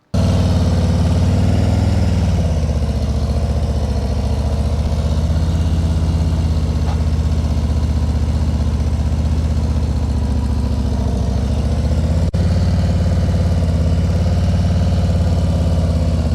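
A 2021 Harley-Davidson CVO Limited motorcycle engine rumbles loud and close through slow U-turns, a deep steady throb that dips and swells gently as the bike turns, with no talking.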